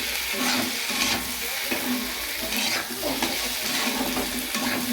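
Chopped tomato, ginger and garlic sizzle in a pan while being stirred, the spatula scraping in repeated strokes over a constant close frying hiss.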